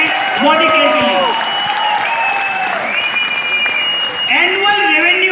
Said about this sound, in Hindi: जोरदार तालियां बजा सकते हैं मोदी केयर के लिए।